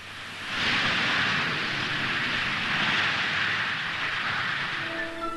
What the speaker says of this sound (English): Into Farnborough flies the BAC 221, a research plane adapted and redesigned for high-speed tests of the Concorde Delta wing